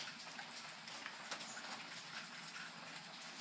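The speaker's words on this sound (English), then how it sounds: "So I'm going to watch this rainstorm and wish that I could ride." A steady wash of rainstorm noise, broadband hiss of falling rain at a constant level with a faint drip or two, no voices.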